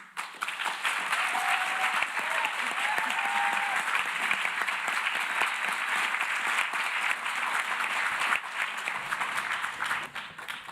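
Sustained audience applause at an ocean-rights summit panel, a dense, steady wash of many hands clapping for about nine seconds before thinning out, with a faint voice briefly audible within it.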